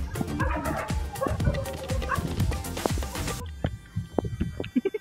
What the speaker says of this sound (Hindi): देखो कितने सारे कुत्ते हैं